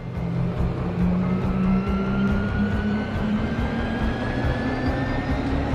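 Harvester spacecraft lifting off in the video game Genesis Alpha One, a steady loud engine roar with a slowly rising whine, continuous and unbroken for several seconds.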